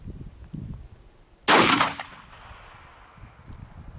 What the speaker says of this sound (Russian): Но чувствуется выстрел намного жестче